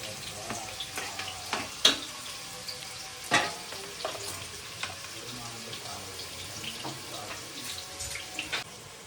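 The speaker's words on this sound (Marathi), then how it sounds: "खडे मसाल्यांचा की कांदा टाकायचा त्याच्यामध्ये" Onion frying in hot oil with a whole-spice tempering for chicken pulao, a continuous close crackling sizzle broken by scattered stirring clatters and a few sharper knocks on the pan.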